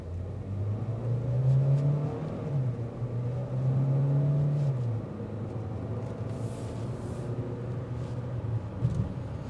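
A 2025 Chevrolet Equinox RS with a 175-horsepower engine pulls away from a stop, its engine droning and rising under acceleration before settling into a steady, moderately loud cruise hum from inside the cabin.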